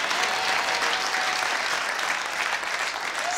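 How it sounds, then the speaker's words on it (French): Steady, dense applause from a comedy club audience at a French-language stand-up show, a continuous wash of many hands clapping at full volume with no break or talk over it. "applaudissez pour elle"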